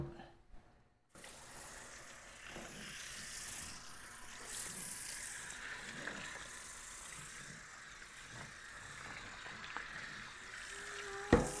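Pork bones for sinigang are rinsed under a running tap, a steady splashing stream of water into a sink that starts after a brief silence and continues to the end, with clattering of bones and a pot.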